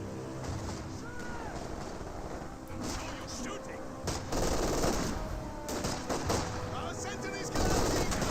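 Company of Heroes 2 battle sounds: rapid machine-gun bursts and scattered rifle shots with heavier explosive thuds, loud and continuous, with a commentator talking over the fighting.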